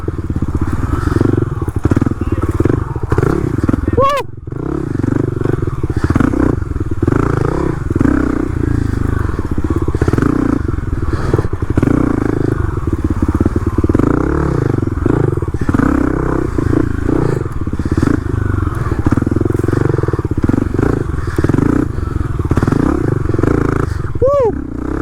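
Dirt bikes ride at an outdoor jump spot, their engines droning and revving continuously for the whole stretch, loud and close with rising and falling pitch as the throttle changes.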